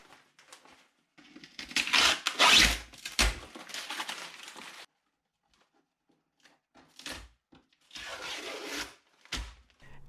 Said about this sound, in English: The epoxy is cured, and it's time to rip off that peel ply.